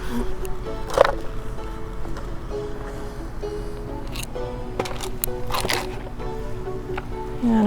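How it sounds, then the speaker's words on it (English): Garden soil is scooped out of a planting hole and dropped into another spot while planting coneflower and sedum outdoors, giving soft squishy scrapes and a couple of brief crunchy thumps over a low steady background hum. "I'm gonna take some of my dirt out of the hole"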